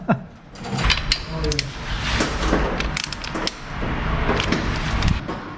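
A torque wrench set to 20 Nm tightens a bolt on a KTM Super Adventure 1290 S motorcycle, a steady run of close ratcheting clicks and mechanical clatter lasting several seconds in a workshop.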